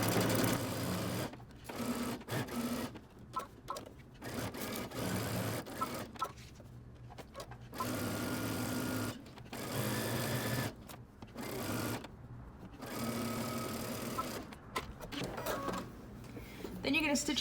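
A sewing machine stitches a Simplicity 8558 jacket in short, quiet bursts of whirring separated by pauses, with a voice talking over parts of it.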